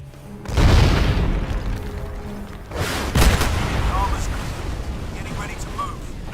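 Big booming explosions and crashing destruction from the video game Crysis, heavy blasts at the start and again around midway, with a rumbling, debris-filled tail and some talk-like sound mixed in.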